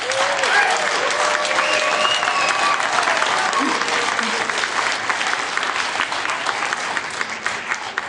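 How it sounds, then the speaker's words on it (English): A live theater audience at a comedy podcast show in St. Paul breaks into sustained applause, a thick, even wash of many hands clapping that holds loud and steady for about eight seconds before easing slightly at the end. "by round of applause"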